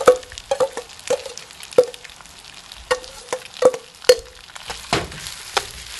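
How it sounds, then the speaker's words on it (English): Fried rice with egg, Chinese sausage and pork lard stirred fast in a hot pan: repeated sharp metal scrapes and clanks of the spatula, about a dozen in six seconds, over a steady close sizzle. "And keep stirring, making sure it stirs very fast, so the rice starts to stick down the bottom."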